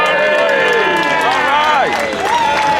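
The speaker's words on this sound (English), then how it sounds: "Marty Goodman, give him a round of applause." A crowd at an outdoor vigil for Julian Assange cheers and claps for the organizer Marty Goodman: a loud, steady wash of whoops and raised voices over dense clapping, close by.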